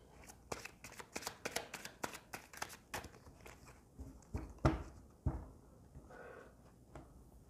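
Tarot cards handled and shuffled up close, a rapid run of crisp riffling snaps that thins into scattered slaps and shuffles, with no talk over it.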